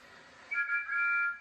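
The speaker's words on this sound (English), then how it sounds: "Thomas and Percy happily tooted their best friend's whistle" A short, bright wooden toy train engine whistle toots in a few quick pulses, then holds one steady note before stopping.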